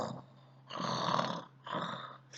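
A voice imitates snoring with two long, rasping drawn-out breaths separated by a short pause.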